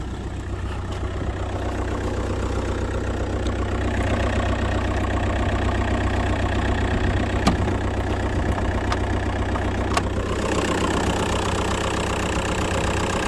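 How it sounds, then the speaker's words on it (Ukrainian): A 2009 Seat Alhambra minivan engine starts smoothly and idles steadily with a low, even rumble throughout, faint mechanical ticks and clicks on top, no voices. "Зараз цей автомобіль заведемо. М'яко заводиться."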